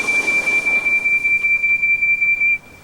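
Percy the tank engine blows a loud, steady steam whistle, one sustained piercing tone held for about two and a half seconds before cutting off, with faint chuffing underneath.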